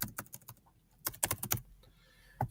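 Typing on a computer keyboard: a quick run of close key clicks, a short pause, then another burst of taps and a final lone keystroke, with no talking.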